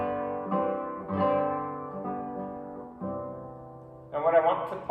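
A guitar in early-nineteenth-century style plays a double cadence of sustained chords moving from a 5/3 to a 6/4, then a 5/4, and back to a 5/3, with several clear chord changes and a brighter, louder strum at the end.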